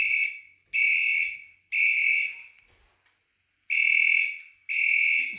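Fire alarm system under test, sounding loud electronic tones in repeated on-off pulses, each about a second long with gaps between, while a faint high whine rises in the background.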